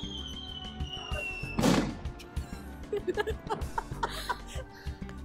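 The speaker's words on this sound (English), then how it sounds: "So literally the fireworks are right behind us." Fireworks go off near a hilltop church overlooking Puebla, Mexico: one sharp burst followed by scattered soft pops and thuds. Quiet chuckling and laughter are heard in the foreground.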